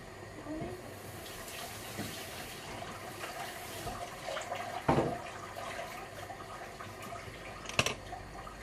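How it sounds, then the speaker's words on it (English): Water runs and splashes while a container is rinsed out in a home kitchen during vegan chilli and sauce preparation, a steady hiss with a louder splash midway and a sharper clatter near the end. "So rinse that out."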